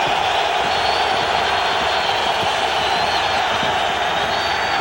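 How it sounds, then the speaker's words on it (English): A stadium crowd roars in a continuous, dense wash of cheering during the 2002 NFL game between the Tennessee Titans and the Oakland Raiders, loud and sustained with no breaks. "Crowd comes alive as McNair sets him up at the 20."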